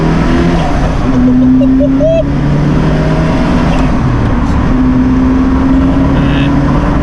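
A Ferrari F40 accelerating from inside the cabin, its engine a steady, loud drone that rises briefly in pitch and then holds, with no talk over it.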